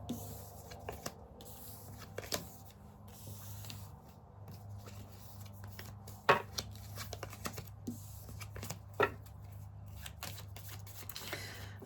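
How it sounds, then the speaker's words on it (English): Tarot cards being shuffled by hand during a zodiac reading, a soft continuous riffling and sliding with scattered sharper card snaps, close and fairly quiet over a low steady hum. "if you're bored about the shuffling, totally get it"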